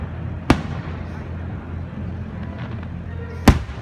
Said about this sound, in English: Now it's all American fireworks.